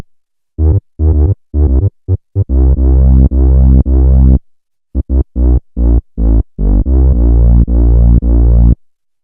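Low-end bass tones pass through distortion in a multiband sound-design setup, heard as a loud, buzzy, harmonically rich bass line of rhythmic chopped notes with short gaps and one brief pause midway.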